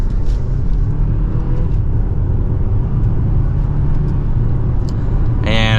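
A 2024 BMW X4 xDrive30i accelerating hard in sport mode from second gear, heard from inside the cabin as a loud, steady engine drone and road rumble, ending with a brief sharp mechanical whir.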